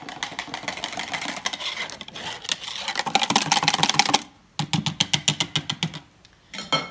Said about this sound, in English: Give this a little whisk.